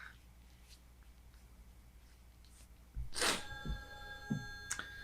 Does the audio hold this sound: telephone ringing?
yes